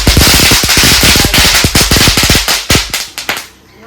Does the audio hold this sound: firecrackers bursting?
yes